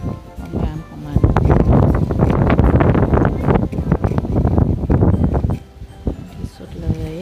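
Wind blows outdoors at a Wellington lookout in New Zealand, gusting and buffeting against the microphone in loud bursts while a person talks throughout.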